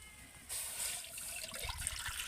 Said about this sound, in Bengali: দুধটা কড়াইতে দিয়ে দেব